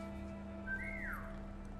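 A character in the video game War Mongrels gives a single short whistle that slides up and then down, fairly faint over a steady game hum.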